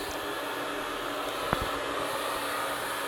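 A hair dryer blows steadily while drying a kitten after its bath, a loud, constant airy whoosh with a brief faint knock partway through.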